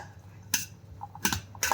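Chopped cucumber and tomato being stirred in a bowl for a Mumbai-style chana chaat, three short close scraping clatters of a spoon against the bowl amid quiet pauses.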